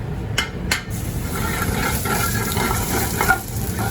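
Shallots fry in hot olive oil in a pan, a steady sizzle with a couple of sharp utensil clinks at the start and light stirring scrapes throughout.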